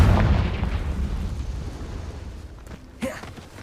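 In the Hogwarts Legacy video game, a Confringo blasting spell explodes with a loud, close boom that rumbles and decays over a few seconds, followed by a short bright burst near the end.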